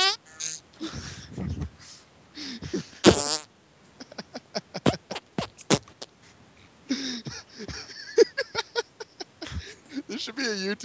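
A voice imitates farting noises during a League of Legends game, producing a string of short blurts and sputters mixed with other vocal sounds and chatter, close and fairly loud.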